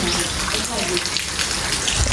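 Rain falling steadily on a surface, a dense close hiss of drops that runs without a break throughout.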